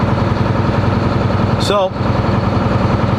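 A long-haul semi truck engine holds a steady high idle around 1300 RPM during a parked regen, a loud, even, close drone with a brief word spoken over it.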